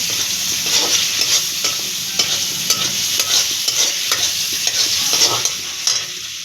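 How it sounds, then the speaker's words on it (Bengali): Prawns fry with turmeric and salt in a pan. A loud, steady sizzle runs throughout, punctuated by frequent scraping stir strokes, and it eases slightly at the end. "ভালো করে হলুদ দিয়ে নুন দিয়ে ভালো করে চিংড়ি মাছটা ভেজে নিচ্ছি"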